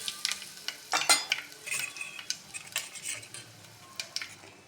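Carom seeds, cumin and asafoetida tipped into hot oil, crackling and sizzling in a steady fry, with a few stirring and utensil clinks close by and no voices.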